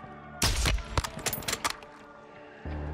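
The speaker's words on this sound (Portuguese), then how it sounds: "Quantos tiros eu vou ter que dar nesse cara?" Gunfire in the Call of Duty Modern Warfare 2 (2022) campaign: a loud burst of rapid shots followed by scattered quieter reports, set against a steady in-game background hum.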